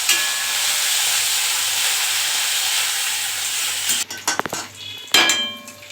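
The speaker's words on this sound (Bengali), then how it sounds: "রসুন লঙ্কা সব ভালোভাবে লাল হয়ে ভেজে গেছে" Crushed garlic and green chili fry in hot oil, a loud continuous sizzle close by for about four seconds, then the sizzle breaks off into clattering utensil scrapes and knocks against the pan.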